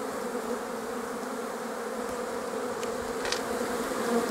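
Honey bees buzz in a dense, steady drone at an apiary hive front in March, close and continuous with no voices.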